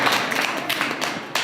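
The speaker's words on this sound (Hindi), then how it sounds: "चलो ताली बजाओ बड़ा जल्दी से" Students applauding in a classroom, a short patter of quick, somewhat ragged hand claps at close range, lasting only a moment with no talking over it.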